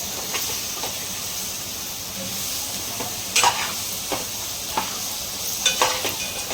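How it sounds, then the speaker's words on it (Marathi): Crab curry masala sizzles and hisses steadily in a pan while a spoon stirs it, with scattered scraping and clinking strokes rising above the continuous frying noise. "पूर्ण शिजून घ्यायचं असं मिक्स करूया मसाल्यामध्ये"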